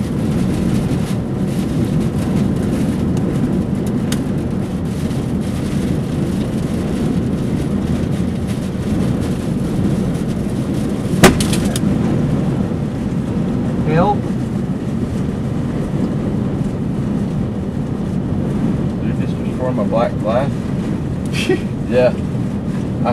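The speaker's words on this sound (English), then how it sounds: "Violent winds." Violent tornado winds roar in a steady, loud, broadband rush during an Iowa storm chase, with occasional sharp knocks and brief voices over the continuous wind.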